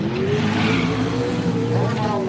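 A 1980 Ford Fairmont drag races down a quarter-mile strip, its engine roaring loud and steady with rising revs, while an announcer talks over the noise.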